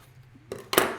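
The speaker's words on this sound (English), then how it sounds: "So I'm going to go ahead and cut this out real quick." Scissors snip through a paper design for a kids' temporary tattoo maker kit, two short crisp cuts close by, the second louder, with quiet room tone between.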